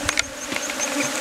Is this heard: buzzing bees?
yes